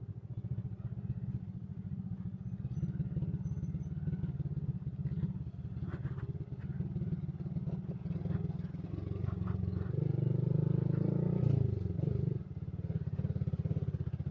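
Motorcycle on a rough hard-enduro dirt trail in Panpanan, San Remigio, Antique, its engine a steady close drone that swells louder near the end, with scattered clatter and scrapes from the rocky ground.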